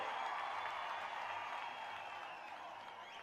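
A rally crowd at a political protest gathering breaks into sustained, dense applause that gradually fades a little over a few seconds, with no voice over it.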